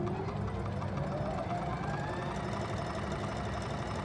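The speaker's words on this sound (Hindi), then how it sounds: "तो हम सबसे पहले इसे सारा सिलाई करते हैं" A Brother ZZ3-B897 sewing machine stitching, with a steady, continuous motor whir and rapid needle chatter running at an even pace throughout.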